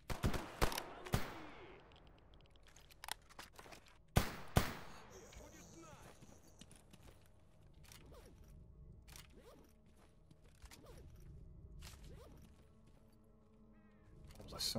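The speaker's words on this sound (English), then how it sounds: "There's even more gunshots coming from up the hill." Gunfire in the video game S.T.A.L.K.E.R. GAMMA: a few sharp, loud shots early on, then scattered fainter distant reports from up a hill over an ambient outdoor background, with a voice talking at times.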